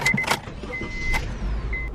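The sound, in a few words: Honda Civic car being driven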